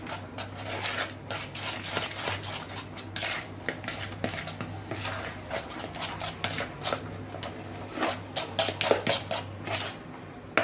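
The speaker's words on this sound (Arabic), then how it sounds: "صافي غادي نخلط ليا الخليط ديالي مزيان" Healthy cupcake batter being mixed in a bowl, with a utensil clinking and scraping against the sides in a steady, close, irregular rhythm. A low hum runs underneath, and no one speaks.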